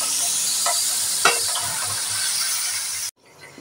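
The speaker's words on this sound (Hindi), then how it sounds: "अब मैंने एक अदद प्याज शामिल किया है और अब मैं प्याज को फ्राई करूंगी" Onion fries in a pan for ketchup chicken, giving a loud, continuous close-up sizzle with a faint clink partway through. It cuts off abruptly near the end.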